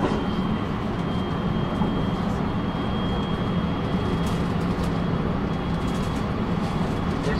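A Japanese passenger train running on rails between Banshu Ako and Omi Imazu, heard as a steady, loud rumble and rolling roar with a faint high whine, continuous throughout with no pauses.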